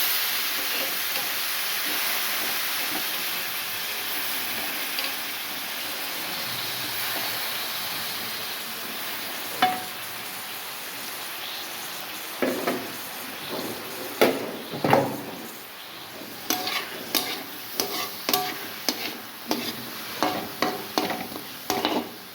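Bitter gourds (akakarakaya) fry in a pan, a soft steady sizzle that turns into a run of sharp crackles and scraping stirs toward the end.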